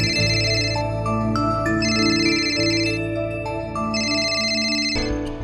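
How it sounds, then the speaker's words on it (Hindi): A phone ringing late at night in a home, a steady electronic ringtone melody with layered tones repeating continuously for several seconds, loud and close, then stopping abruptly near the end. "मंगल जी का फोन आ गया।"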